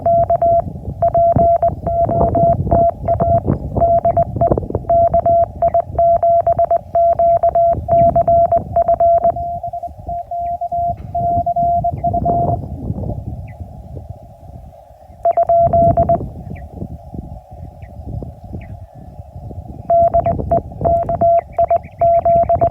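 Morse code CW tones received on an amateur radio during a POTA activation: a steady keyed tone sending rhythmic dots and dashes almost continuously, with brief pauses, over a noisy band background.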